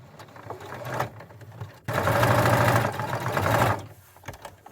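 A sewing machine stitching a fabric headband seam, heard as a steady rapid mechanical whir in a couple of runs with short pauses between. It is close and fairly loud, with no talk.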